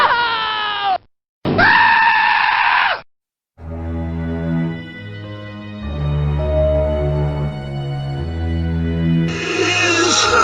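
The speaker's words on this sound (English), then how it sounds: "he screamed in terror." A man screaming in terror, several long harsh wails broken by brief silences, followed by a sustained strained scream with tonal, sound-effect-like layers, loud and close with no other talk.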